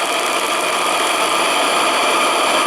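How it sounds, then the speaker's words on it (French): An Anton T200 RC model steam engine with water pump runs at high speed on a tabletop, giving a steady, loud, close mechanical whir with dense rattling texture and no talk. "Ça n'a aucun sens de faire tourner une machine à vapeur à cette vitesse."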